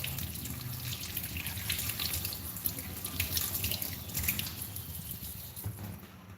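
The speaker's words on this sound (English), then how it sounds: "I'm done cleaning the onion, and right now I'm washing it up." A fresh onion is rinsed under a running kitchen tap, a steady, fairly close gush of water splashing into the sink with continuous spatter and no talking.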